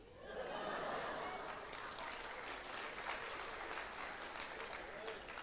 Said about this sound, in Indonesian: Yang tepuk tangan itu waras.